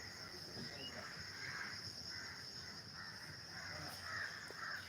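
Birds call outdoors on a morning, with faint crow-like caws and chirps over a steady insect drone and hum, all distant and quiet with no speech.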